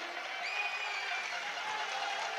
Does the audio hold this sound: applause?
yes